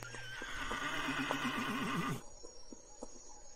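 A horse in a quiet forest gives one long, quavering whinny that rises and shakes before cutting off, followed by a few faint hoof-like knocks in near silence.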